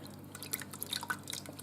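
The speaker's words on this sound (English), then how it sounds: "I'm just gonna give it a stir." Oxtails in coconut milk are stirred in a Ninja Foodi pressure cooker, giving soft wet clicks, drips and squelches in a quick irregular patter, close and quiet.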